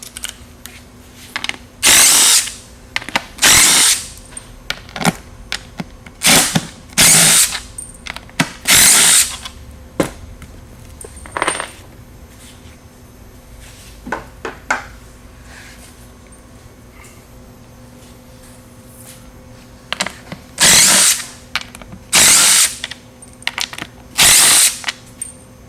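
A power drill removes hardware from the seat base of a 2012-or-newer Club Car Precedent golf cart, whirring in short loud bursts separated by quiet gaps, with ratcheting clicks as fasteners come loose.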